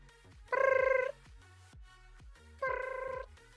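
A game sound effect of something ringing in a closet in Goat Crashers, two separate bursts of a trilling, bell-like electronic ring with a quiet pause between them.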